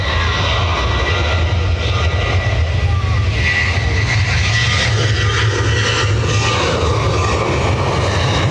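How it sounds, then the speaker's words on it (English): A departing airplane roars steadily past at Dublin Airport, a loud broadband jet rumble with wind and distant background noise throughout. "Another plane coming."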